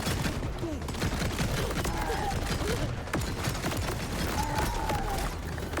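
Rapid gunfire from a weapon in Borderlands 4 crackles in dense, continuous bursts, close and loud, with game sounds and a talking voice layered over it.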